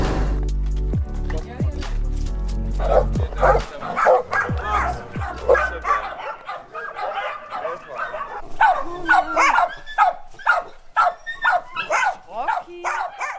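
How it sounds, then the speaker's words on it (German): Several dogs at an animal shelter in Greece bark and yip, some close and loud, others farther off, with whimpers between the barks. Music plays over the first few seconds. "füttern halt hier gerade die Hunde im Tierheim und auch draußen"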